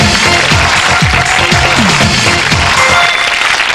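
A studio audience on a morning TV show applauds steadily, a thick unbroken wash of clapping with faint cheers mixed in, close and loud for the whole stretch.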